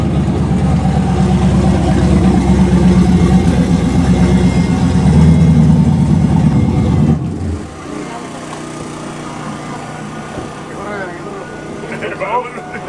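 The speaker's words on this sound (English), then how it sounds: "It just you hear when it shifts, it drops so much RPM because you want so much more power." A street truck engine pulling hard, a loud steady roar for about seven seconds, then an abrupt drop in pitch and volume as it shifts and falls back to a lower rumble, with people talking.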